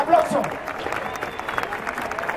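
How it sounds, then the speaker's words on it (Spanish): Audience applause and cheering break out at a Red Bull Venezuela 2019 freestyle rap battle, a dense burst of clapping that swells at the start and holds steady, with a host's voice talking over the crowd. "Fuerte el aplauso."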